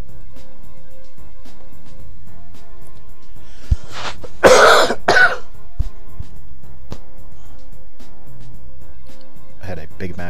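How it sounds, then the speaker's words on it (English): A short burst of coughing from a man who has just eaten a Big Mac, heard close to the microphone in a quiet room during a Wartune game session. A second, smaller cough follows it. "I had a Big Mac earlier and it gave me a little bit of a cough."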